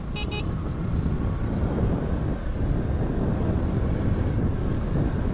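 Heavy traffic jam on the road by Tank Bund in Hyderabad, a steady roar of engines and wind-buffeted rumble, with a brief double horn toot right at the start and a faint distant honk near the end.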